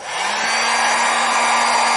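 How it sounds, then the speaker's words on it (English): A heat gun removing a decal blows with a steady, loud whooshing roar and a faint motor whine, starting up and holding constant nearby. "what you'll need for this is actually a heat gun"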